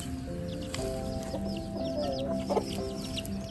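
A free-range hen clucks softly and steadily while feeding termites to her chicks, with thin chick peeps overhead and a brief louder squawk midway, close by and with no talking.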